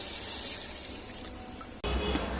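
Water pours steadily into a pot of aloo gosht masala, a continuous splashing rush that changes tone sharply near the end as the pot fills.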